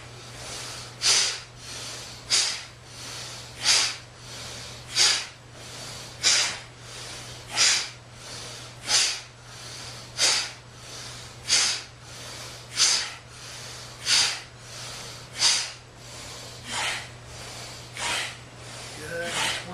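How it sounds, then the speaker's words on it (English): Forceful rhythmic breaths of a Kundalini breathing exercise, sharp emphasized exhales snorted through the nose roughly every 1.3 seconds, about fifteen in a row, close and steady over a low constant hum. "Powerful breaths. Focus on the exhale in particular."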